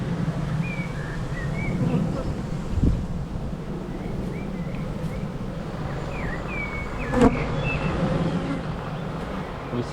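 Honey bees hum in a steady, dense buzz at a hive, with a few nearer individual bees passing close and light wind rumbling throughout.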